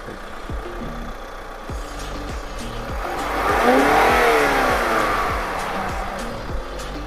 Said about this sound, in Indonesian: Coba dengerin mesinnya nih.